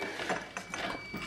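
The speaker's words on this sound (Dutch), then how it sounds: "En het probleem is deze extreem vervelende hoogpiep." Steady high-pitched electronic beep whining continuously at a fixed pitch in a room, faint and unbroken beneath scattered clicking and rustling handling noises.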